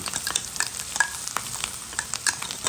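Garlic, ginger and chili stirred in a hot frying pan, with a steady bright sizzle and scraping utensil strokes repeating irregularly close to the microphone.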